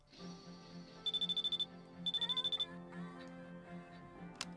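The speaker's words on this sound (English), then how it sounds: "Phone is ringing." A phone ringtone in Persona 3 Portable, two bursts of rapid pulsing rings heard close and clear over soft background game music, with a final short chime near the end.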